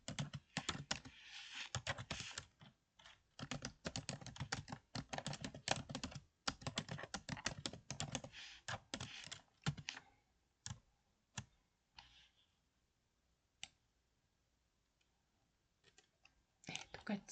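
Rapid clattering keystrokes on a computer keyboard while filling table cells in a PowerPoint exam exercise, dense bursts of typing for about ten seconds, then sparse isolated key taps with quiet gaps, close and fairly soft.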